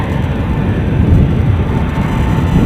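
A jet aircraft taxiing at Edinburgh airport sends a loud, steady, broad engine roar past a nearby listener outdoors, with no pauses.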